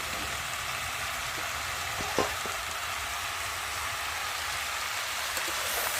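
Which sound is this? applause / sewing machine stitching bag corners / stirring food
stirring food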